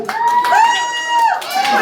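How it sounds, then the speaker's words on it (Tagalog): A crowd of guests shouting cheers at a birthday party, a sustained loud chorus of overlapping voices that rises and holds, with a brief dip before swelling again near the end. "Kailangan lang ng sigaw palakasan."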